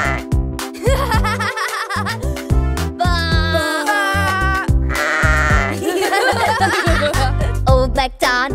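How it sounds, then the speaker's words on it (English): Repeated sheep-like bleats ring out over a bouncy musical backing, with giggling and playful voices mixed in throughout. "My favorite farm animal! A sheep!"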